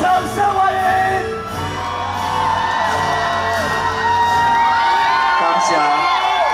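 A crowd at a Democratic Progressive Party campaign rally in Taiwan whoops, shouts and cheers loudly and steadily, with chanting voices rising over the din.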